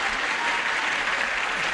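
A Match Game PM studio audience applauds, a dense, steady roar of many hands clapping at once that stays loud and even from start to finish.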